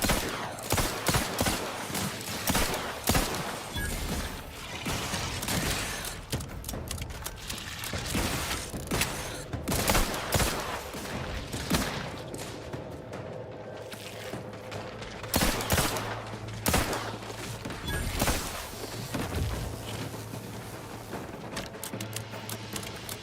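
Rapid bursts of gunfire in The Outer Worlds 2 clatter over a dense backdrop of mechanical game noise and music, with repeated sharp transients throughout and no speech.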